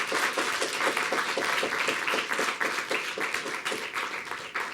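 Audience members at a college's State of the College event applaud the students. Steady, even clapping from a sizeable room continues for the whole stretch at moderate volume, with no one speaking over it.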